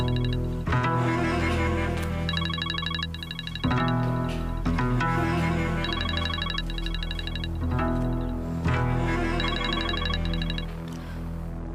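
A phone ringtone plays over a speakerphone during a call, a repeating melodic ring pattern in bursts that return every few seconds, steady and fairly loud with no talk over it.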